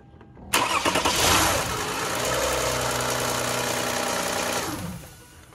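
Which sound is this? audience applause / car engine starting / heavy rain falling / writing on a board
car engine starting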